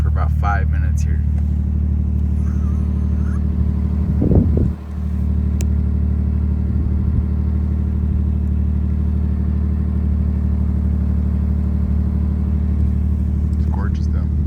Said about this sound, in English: Been at a standstill in traffic for about 5 minutes here.